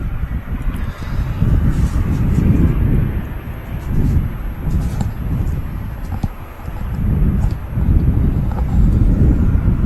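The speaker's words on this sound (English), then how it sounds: "Lufthansa just doing the long taxi back to the terminal." A Lufthansa airliner taxis back to the terminal at Manchester Airport, giving a steady, loud low rumble that swells and eases over the whole stretch, with wind buffeting the microphone and no talking.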